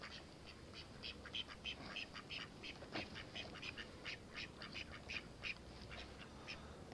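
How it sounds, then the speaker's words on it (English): A duck quacks repeatedly outdoors near a new housing estate, rapid, evenly spaced raspy calls that run through the whole stretch, close by but quiet, with no voices. "Hello, duck."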